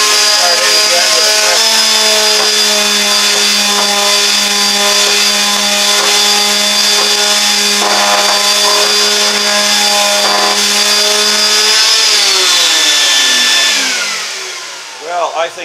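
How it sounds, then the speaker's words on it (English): A quarter sheet sander strips paint from a hickory vanity with a loud, steady, high-pitched whine that holds continuously and then winds down at the end; no talking. "It doesn't look too bad for just a lowly quarter sheet sander."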